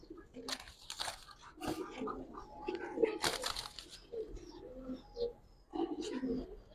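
Giribaz pigeons at a seller's loft in Old Dhaka coo softly and repeatedly, mixed with faint rustling and crunching sounds and a little background talk.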